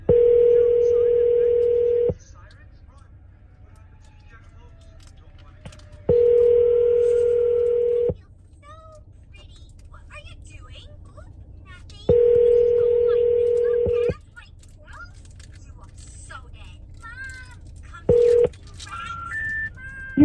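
Ringback tone on an outgoing phone call: three long steady beeps about two seconds each, separated by pauses of around four seconds, then a brief fourth blip, loud and close over quiet room noise and faint speech.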